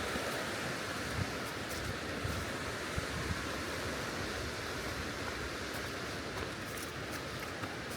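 Steady broadband rush of flowing water, like a creek running nearby on the Appalachian Trail near the Virginia Creeper Trail, continuous and fairly loud with no voices.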